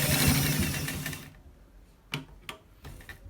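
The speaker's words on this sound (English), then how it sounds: "We are going to stitch it on top." A sewing machine runs in a fast continuous stitching burst while sewing a front pocket, then stops, followed by a few brief mechanical clicks and taps nearby.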